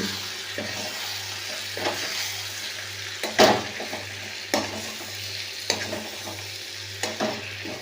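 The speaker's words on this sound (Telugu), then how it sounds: "బాగా కలుపుకోవాలి" Country chicken curry being stirred in a pot, village style: a steady low scraping and swishing of the spoon with soft sizzling underneath and a few sharper knocks against the pot, close and moderately loud, no talking.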